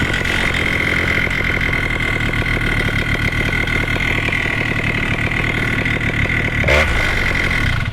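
A Moster engine idles steadily after its idle screw has been adjusted, giving a loud, continuous, even chugging that stays close and unbroken. A brief rougher flutter comes near the end.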